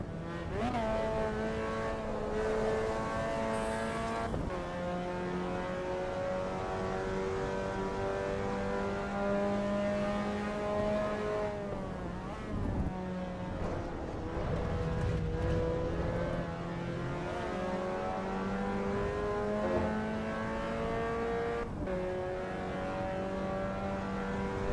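A Mazda MX-5 engine in a racing video game revs and shifts through gears, its buzzing tone rising and dropping repeatedly over a steady, fairly loud drone, with no talk over it.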